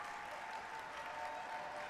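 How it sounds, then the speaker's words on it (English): Indoor arena crowd at a men's college volleyball match in the Covelli Center, a steady roar of applause and cheering held at a distant, even level without breaks. "Crowd getting loud here in the Covelli Center"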